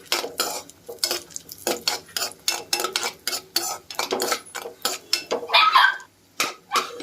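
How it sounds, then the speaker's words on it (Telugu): Cashews and raisins fry in ghee in a pan while a spoon scrapes and clinks against the metal in quick repeated strokes, close and fairly loud over a light sizzle, no speech. "ఇప్పుడు ఇందులో కిస్మిస్ వేసుకుని దోరగా వేపుకోవాలి"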